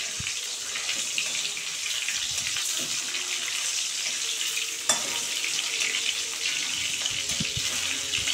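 Silver carp pieces fry in hot oil with a loud, steady hiss and crackle throughout, broken by one sharp clack midway; no voices.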